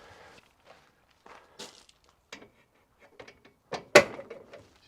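Part of a 2017 Auto-Sleepers Nuevo EK motorhome locks into place. A few soft knocks and taps lead up to one sharper, louder click-clunk near the end, heard close up with quiet gaps between.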